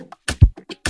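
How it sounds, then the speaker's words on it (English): A single bar of a shaker loop for an Afrobeat beat made in FL Studio, brief rhythmic bursts of shaken grains with a low thump mixed in, close and dry, no voice. "I added this first shaker loop."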